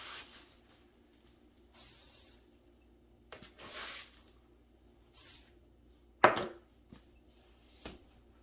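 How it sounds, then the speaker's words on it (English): Oats are tipped into a bowl of butterscotch-chip cookie dough in a home kitchen. Several soft, close, rustling pours and hisses arrive in separate bursts, with a few light knocks between them and no speech. "Add in my oats."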